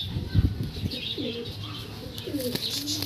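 Andhra pigeons give low, soft cooing calls nearby, with a few scattered chirps and a brief rustle of wings against a quiet background.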